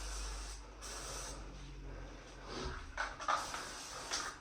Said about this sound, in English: You can do a test spray, just a little bit, to make sure that how is the paint going.